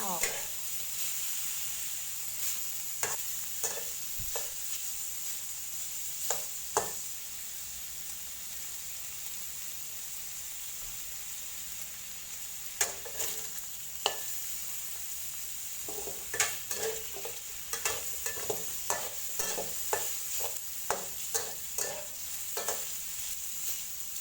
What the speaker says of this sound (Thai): ไล่น้ำมัน